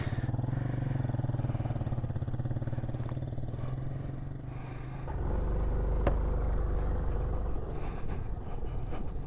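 A motorcycle on a touring trip sets off, its engine idling with a low rumble before dropping to a deeper, louder running drone as it pulls away, with a sharp click midway and no talking.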